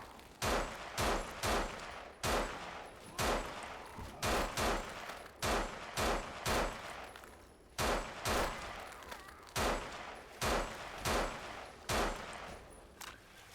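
Gunfire from a gun in the zombie shooter No More Room in Hell, loud sharp shots fired singly and in quick pairs at a steady, repeated pace with no talking.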